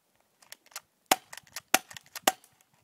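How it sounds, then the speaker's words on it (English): An airsoft gun fires in quick succession, a string of sharp snapping shots of varying loudness with short gaps between them, close by and without talk. "Alright, so rapid fire."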